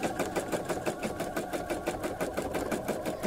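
A sewing machine free-motion quilting a fox design stitches close up in a fast, steady, evenly pulsing rhythm, running on continuously without any talk.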